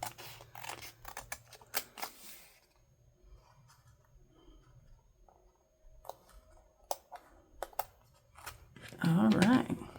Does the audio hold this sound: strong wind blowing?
no